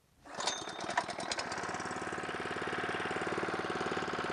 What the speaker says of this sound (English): I'm just going to start my lawnmower.